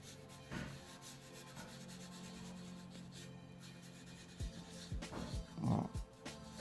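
A rolled paper towel rubs dry pastel into paper with soft, close scratchy strokes, steady at first and then in a few firmer, louder swipes toward the end.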